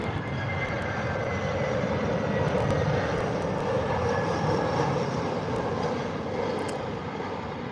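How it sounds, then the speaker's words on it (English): An EasyJet Airbus A320 arriving from Madrid approaches to land at Gatwick, a steady broad jet roar holding at moderate distance throughout with no voices. "Here comes the EasyJet 320"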